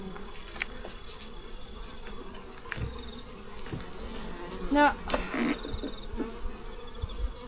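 Honey bee colony buzzing from an opened hive, a steady low hum with occasional close passing buzzes, joined briefly by a single spoken word.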